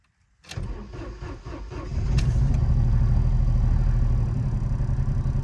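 A January 1992 Opel/Vauxhall Corsa B, just serviced, cranks briefly and fires up, then settles into a loud, steady idle close by.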